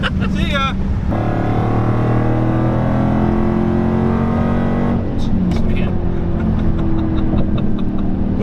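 A 2016 Dodge Challenger Hellcat accelerating from a roll at about 75 mph. The loud, sustained engine roar climbs in pitch from inside the car, with a shift near the middle, and voices talk over it at the start and end.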